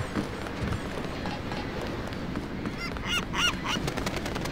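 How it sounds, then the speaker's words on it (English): Bird calls ring out in a Deus Ex game scene by the water, harsh honking cries repeating among ambient game noise, a cluster of sharp calls near the end, with no talking. "Come here, seagull."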